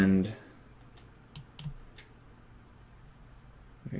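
Scattered single keystrokes and clicks on a computer keyboard whose battery is running low, a few sharp taps spread across a quiet stretch, with brief voice sounds at the start and end.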